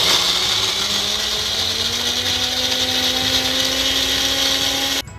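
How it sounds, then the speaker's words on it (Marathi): A kitchen mixer grinder whirs loudly and steadily as it grinds green peas with garlic, green chilli and ginger, its motor pitch climbing slightly before it cuts off abruptly near the end. "याच्यात आपण लसूण, मिरची आणि आलं घालून वाटून घेतलेलं आहे"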